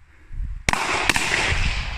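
Two sharp gunshots from an Emtan rifle used by Philippine special forces at a shooting range, a pair of loud cracks about half a second apart with a lingering noisy tail.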